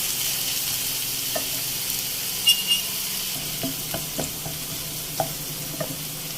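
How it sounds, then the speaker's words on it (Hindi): Chopped onion and finely cut green chili frying in oil in a pan for Masala Maggi, a steady soft sizzle with a few light clinks of stirring, close and unbroken, no talking. "अब हम इस प्याज को फ्राई करेंगे"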